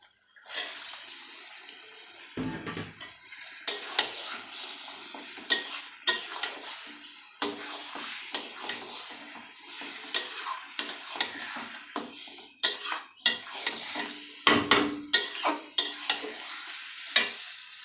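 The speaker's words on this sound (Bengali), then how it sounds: "মাংসগুলো দিয়ে দেবো" Meat goes into a pot of chicken biryani and is stirred, with repeated scraping and clanking of a metal spoon against the pot over a soft sizzle, in irregular bursts close by.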